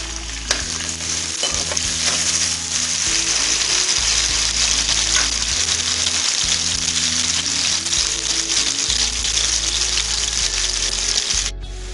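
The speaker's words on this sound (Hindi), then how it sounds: "ये हम इसमें प्याज अब डालें।" Onions frying in a cup of hot oil in a kadai, with a loud, constant sizzle and occasional stirring and scraping throughout, close up and with no talking.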